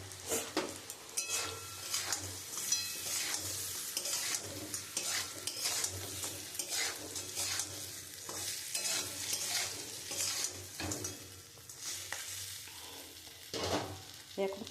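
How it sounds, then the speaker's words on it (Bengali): Morola fish frying in a spice paste in a pan: a continuous sizzle with frequent utensil scrapes and light pot clinks, close and fairly busy, with no voices. "এবার মাছটা দিয়ে দেবো।"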